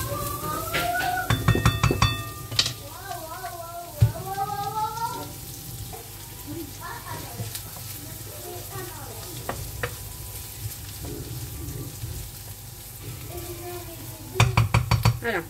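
Margarine melting in a pan while cooking a meatless potato gratin, giving a steady soft sizzle and frying crackle throughout, with occasional utensil clinks and stirring scrapes, a few louder bursts near the end.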